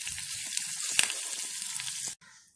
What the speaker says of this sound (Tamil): கொஞ்சம் பெருங்காயத்தூள் போட்டுட்டு கொஞ்சம் கருவேப்பிலை இதிலே போட்டு வதக்கிட்டு